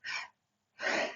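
Two forceful breaths, a short one and then a longer one, taken during a core exercise, close to the microphone and separated by a brief silence.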